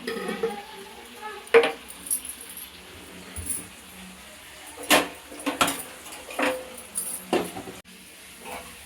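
Chili powder is stirred into a mutton (boti) curry in a pan. Faint background quiet is broken by intermittent scrapes and clinks of a spoon against the pan, coming in short irregular strokes.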